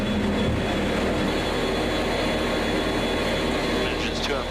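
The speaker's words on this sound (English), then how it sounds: "The nose lifts as the aircraft gains altitude rapidly." KC-135 Stratotanker jet engines during a maximum-performance takeoff climb: a loud, steady, close roar of turbine noise that fills the whole clip without letting up.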